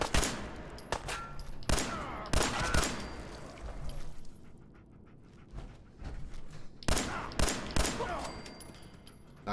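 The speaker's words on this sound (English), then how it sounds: "and that is the minigun that I was talking about." A minigun fires in Fallout 4, loud bursts of rapid shots in several separate volleys with quieter gaps between them.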